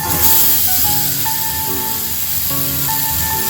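A milky potato fry mixture is poured into a hot, oiled kadai and hisses loudly and steadily, with sustained tonal sounds running underneath.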